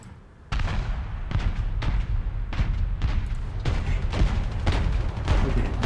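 Gunshots and artillery fire from the video game War Thunder: a quiet start, then a run of heavy booming shots at irregular intervals, roughly one per half second, loud and close over a constant rumbling background.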